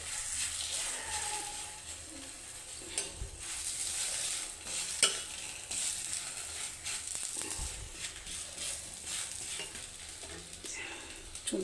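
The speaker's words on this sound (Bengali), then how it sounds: "তারপরে আমি এটা পরোটার মতো ভাজবো, সেজন্য আমি দিয়ে দিচ্ছি একটু তেল" Paratha-style flatbread frying in a little oil, a faint continuous sizzle with occasional quiet scrapes and clicks from a utensil against the pan.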